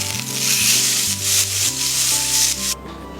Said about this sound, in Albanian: do vazhdojmë me skuqjen e mishit, të cilët e kemi marinuar më përpara në krip dhe piper të zi